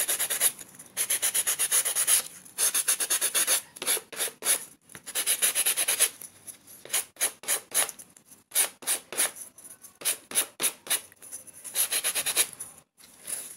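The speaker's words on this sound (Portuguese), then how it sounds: "A gente pega uma lixa, ó. Tira e tira isso aqui também, ó. Lixa." Sandpaper rubbed lightly by hand over a paper Christmas angel decoration, close, quick scratchy strokes in irregular runs with brief gaps, no talking.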